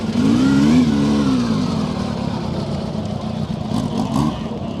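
A V4 SP2 motorcycle pulls away at an outdoor bike meet, its engine rising in pitch as it accelerates, then fading into a softer drone as it moves off into the distance.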